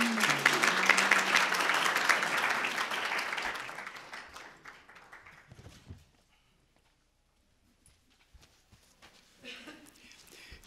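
Audience applause at a democracy conference panel, loud and sustained for about five seconds, then fading away into near silence with a few scattered claps and faint rustling at the end.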